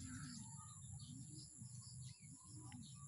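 Racing pigeons return to the loft during a race training lap in Antipolo, with soft chirps and bird calls over a steady low rumble of background noise.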